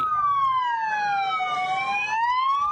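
A fire truck siren wails, sweeping down in pitch and back up again, loud and steady with a faint road rumble underneath, at a house fire in Quezon City.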